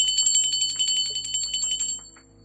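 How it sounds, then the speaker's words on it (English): A small ritual bell is rung rapidly and repeatedly for spirit guides, bright metallic rings pulsing quickly for about two seconds before fading out. "I'm going to ring the bell for my spirit guides, guardian angels, and ancestors"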